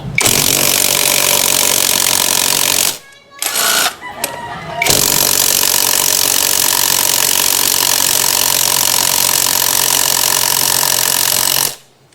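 An impact wrench loosening the rear axle nut on a Yamaha Mio i 125 motorcycle rattles loudly and steadily in long sustained bursts, with a brief pause midway before the hammering resumes and runs on until near the end.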